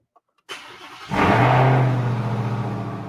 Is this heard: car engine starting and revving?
yes